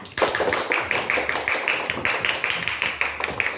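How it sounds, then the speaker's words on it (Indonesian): A fourth-grade classroom gives a lively round of applause, many small hands clapping rapidly and continuously in a dense, steady patter that carries on for several seconds. "Tepuk tangan yang meriah"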